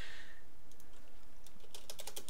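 Fingers type on a computer keyboard, faint and close, with a sparse run of light clicks that quickens into a dense cluster of keystrokes near the end.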